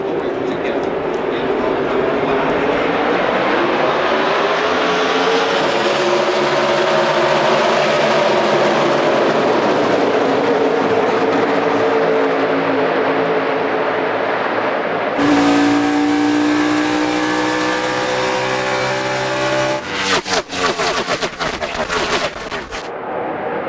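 NASCAR stock cars roar away at a restart in the 2014 MyAFibStory.com 400, a loud, rising pack of engines that sweeps past with whining, shifting tones, and a commentator's voice is partly heard under the noise.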